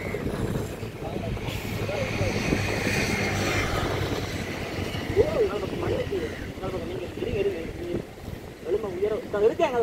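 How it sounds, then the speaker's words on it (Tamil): Strong wind blows steadily outdoors at a van-life campsite by a rock, a broad continuous rush with gusty swells, while people talk over it throughout. "சரியான ஒரு காற்று வீசுது."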